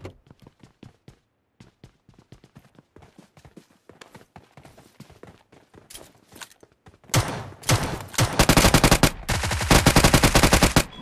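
Automatic weapon fire in PUBG Mobile, starting as sparse, quieter shots and bursts, then turning into loud, dense, rapid gunfire in the final few seconds, with no voices.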